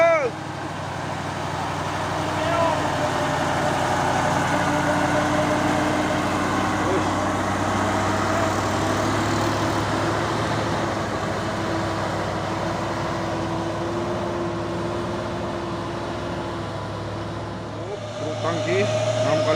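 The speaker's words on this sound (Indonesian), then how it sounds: "Truk tangki 6x4 tadi." A heavy 6x4 tanker truck rumbles steadily past nearby, its engine drone lasting a long stretch over road noise, with voices talking throughout.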